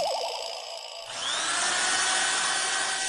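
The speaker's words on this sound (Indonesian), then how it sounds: "Siapa yang berani renovasi malam-malam di kompleks saya?" Power drill whirring at night in a housing complex, a steady loud high-pitched drone that kicks in after a brief tone and runs continuously, with no talking.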